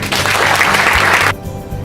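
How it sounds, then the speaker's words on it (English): Loud audience applause at an annual meeting, a dense burst of clapping from a crowd that cuts off abruptly after a second or so, leaving quiet room tone. "So one last round of applause for Don."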